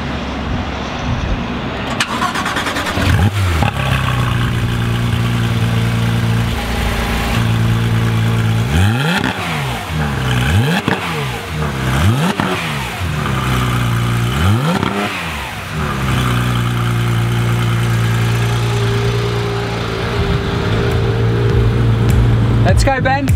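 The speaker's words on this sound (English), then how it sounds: "I want people to hear this beautiful engine start up." A Porsche 911 GT3 RS engine cranks and fires up, then revs sharply several times with rising and falling sweeps before settling into a steady, loud idle.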